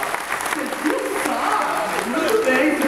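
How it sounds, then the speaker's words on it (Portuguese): Applause from a studio audience on a motivational news-style show, a brisk clapping patter running steadily under a voice with a faint musical tone. "uma salva de palmas pra ele"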